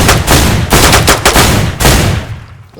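Gunfire in the survival game DayZ, a loud rapid burst of several close shots in quick succession, then fading away at the end.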